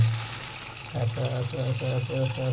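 Water is poured into a rice pot or pressure cooker while veg biryani is cooking, a burbling, gurgling pour that starts partway through and continues steadily under low kitchen noise.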